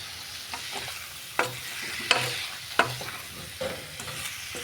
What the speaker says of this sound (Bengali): এবার কচুর মুখেটাকে মশলার সাথে ভালো করে সাঁতলে নিতে হবে